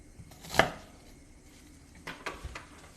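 A knife chops onions on a cutting board, one sharp close strike followed by a few lighter, softer cuts about a second and a half later.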